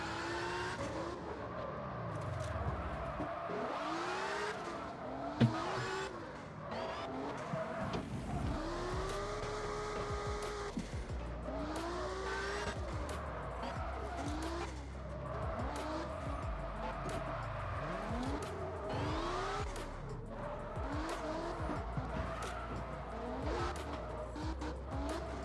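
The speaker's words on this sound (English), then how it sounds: "That engine cutting out." Drifting car in CarX Drift Racing Online 2, its engine revving and bouncing off the limiter in repeated rising and falling sweeps over continuous tire squeal, loud and sustained throughout.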